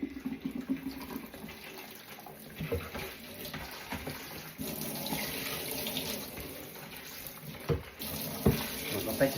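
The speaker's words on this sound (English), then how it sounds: "Rinse it out, it's got lots of bubbles again." Tap water runs into a kitchen sink, rinsing out a bubbly washing-up bowl, a soft continuous splashing stream with clinks and light knocks as the bowl is handled, fairly quiet overall.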